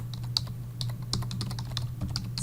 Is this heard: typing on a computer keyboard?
yes